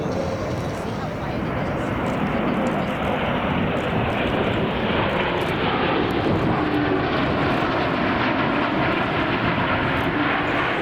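A USAF C-17 transport makes a slow speed pass at about 120 knots at an air and space expo, its engines producing a loud, sustained broadband roar that holds steady throughout, with a voice talking over it.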